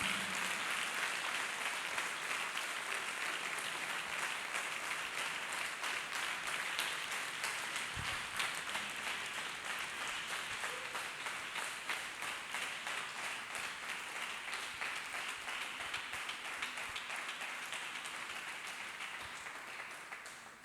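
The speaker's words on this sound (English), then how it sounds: "Let us clap hands for Jesus." A church congregation claps hands in long, steady applause, a broad wash of many hands that holds for about twenty seconds before easing slightly at the end.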